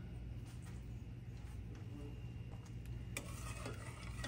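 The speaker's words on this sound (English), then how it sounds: "Give this all a good stir." Granulated white and brown sugar with cinnamon, cloves and salt are stirred in a pot for apple cranberry sauce, giving soft scraping and gritty swirling under a steady low hum, quiet and close.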